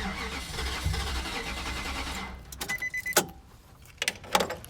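A 2005 Nissan Titan engine cranks for about two seconds without firing, a steady starter churn that then stops, followed by scattered clicks and rattles close by.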